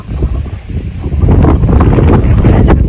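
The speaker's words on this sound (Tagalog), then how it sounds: "Lakas na hangin." Strong wind blowing through a garden, buffeting the microphone in loud rumbling gusts that swell and stay heavy after the first second, with no talking.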